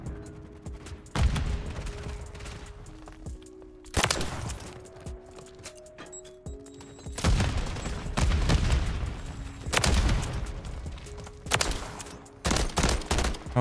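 Gunfire in a Call of Duty Modern Warfare III multiplayer match using a DG 56 build, with loud close bursts of automatic fire repeating every second or two between quieter gaps with faint mechanical tones.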